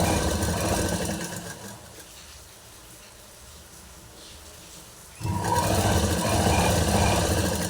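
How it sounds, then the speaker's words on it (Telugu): A sewing machine stitches along a thinly folded saree edge, running loud and steady, dropping to a low hum for a few seconds, then snapping back to a full, fast whir. "ఇలా చాలా చిన్నగా చివరంటూ మడత పెట్టుకుని కుట్టేసుకోవాలి"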